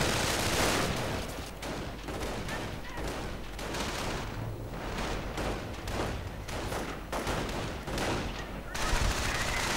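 Dense gunfire crackles through a World War II strategy game battle, with rapid overlapping shots and machine-gun bursts over a constant loud din and a few heavier thumps, as a commentator talks over the fighting.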